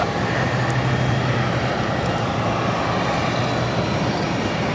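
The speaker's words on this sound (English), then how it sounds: "Aer Lingus A330 now crossing over 22 right." An Aer Lingus Airbus A330 taxis across runway 22 right at Boston Logan, giving a steady, loud engine rumble and broadband roar that holds evenly throughout with no speech.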